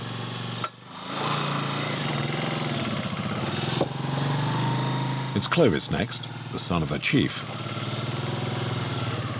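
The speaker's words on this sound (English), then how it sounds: "He has to get his motorbike over himself." Motorbike engine droning steadily over a rough jungle track in Cameroon, with a surge and uneven revving bursts near the end; someone talks over it.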